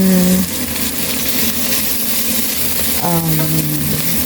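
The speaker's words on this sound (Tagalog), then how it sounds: "Stir fry tayo ng chicken" Chicken breast stir-fried with celery and red capsicum sizzles loudly and continuously in the pan, with brief tonal squeaks near the start and again after three seconds.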